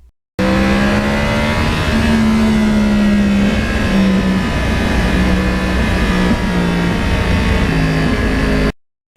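A Yamaha R1 crossplane sportbike ridden along scenic roads beside the Hudson River in lower New York State, its engine droning loud and close with rising and falling revs and wind rushing past throughout.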